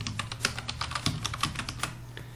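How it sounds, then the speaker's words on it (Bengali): A company name typed on a computer keyboard, a quick run of crisp, closely spaced key clicks at an even pace, heard up close with no talking. "এবার কিবোর্ড থেকে এন্টার প্রেস করব।"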